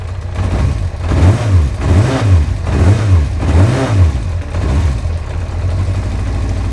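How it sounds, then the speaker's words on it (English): A Yamaha XJ 600 motorcycle engine runs up close, revving up and down in a steady series of throttle blips over a rough idle. "Engine also sounds good."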